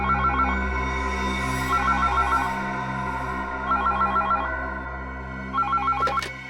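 A telephone rings in repeated trilling bursts, about four rings spaced evenly over several seconds, steady and fairly close, with no talking over it.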